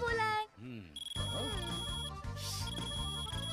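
A phone ringtone in a Hindi-dubbed film scene rings out as a sustained, repeating electronic melody, loud and close, under and between voices speaking over it.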